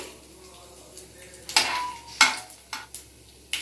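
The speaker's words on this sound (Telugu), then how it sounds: "తర్వాత రెండు ఎండిమిర్చి ఇలా తుంచుకొని వేద్దామండి" Broken dried red chillies drop into a hot pan of tempering seeds for a ridge gourd curry, giving a few sharp clattering crackles and brief sizzles over a quiet hiss.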